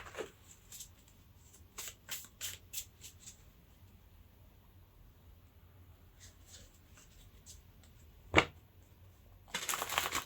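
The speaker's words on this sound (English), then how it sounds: "Shuffling does take a bit long, so that's why I do it off camera." Playing cards being shuffled up close, with scattered quick flicks and riffles, then a louder riffling burst near the end.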